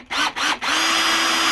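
A power drill bores a hole for a parking sensor in a Ford Fiesta MK7 bumper: two short trigger blips, then a loud, steady, high whine that holds close up.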